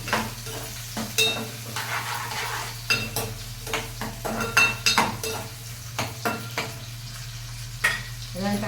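Tomatoes fry in a pan for a goat head pulusu curry, a steady sizzle broken by repeated spoon stirs and metal clinks against the pot, close and rhythmic, with a low hum underneath.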